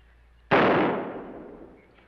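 A single sharp gunshot rings out in a western TV drama, loud and close with a crisp crack followed by a fading echoing tail, with no talk over it.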